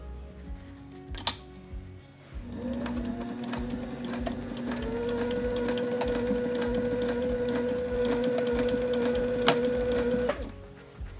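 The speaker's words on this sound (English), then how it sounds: "we're also going to sew a line of stitches at the bottom of the webbing to hold it into place" A sewing machine runs steadily for about eight seconds, stitching a line along the bottom of a bound hem to hold webbing in place, with a steady hum and a rapid needle rhythm after a brief start-up.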